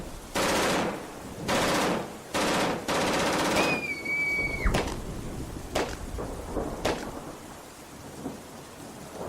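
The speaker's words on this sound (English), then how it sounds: "They're shooting at innocent people. I think they're just shooting at anything that moves." Gunfire from people shooting in a story game, heard as heavy booming bursts early on, followed by sharper scattered shots and a rushing background like rain or thunder.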